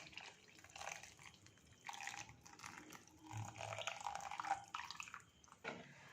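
Jaggery syrup is poured into a simmering puli inji mixture for a Kerala Onam sadya, making a soft, continuous liquid trickle and splashing, with quiet bubbling underneath.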